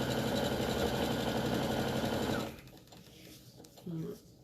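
A sewing machine stitches straight lines on a fabric mat, running in a loud, even mechanical rattle for a couple of seconds before stopping, followed by quieter handling noise and a brief voice.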